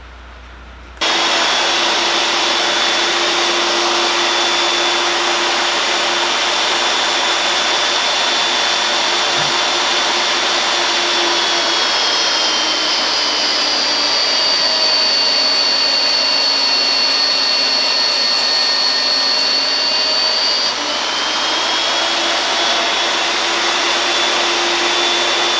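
A magnetic drill bores a large hole through steel, producing a continuous loud whine and grinding hum that starts suddenly and holds steady for over twenty seconds, with slight shifts in pitch as the cut progresses.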